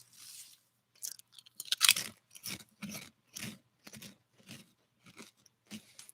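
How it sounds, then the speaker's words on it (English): Crunchy snack food is chewed close up in a series of sharp, irregular crunches spaced about half a second apart, loud and alone with no talking. "You guys hear that crunching?"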